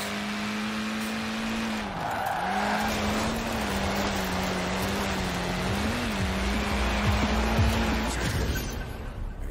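A Ford Escort Cosworth in Forza Horizon 4 pulls hard, its steady engine note dipping briefly between gears and then climbing again, loud and continuous, with faint tire noise and no talking.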